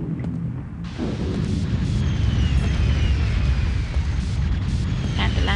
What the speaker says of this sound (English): a chance for you to see the barrel explosions without other things shooting me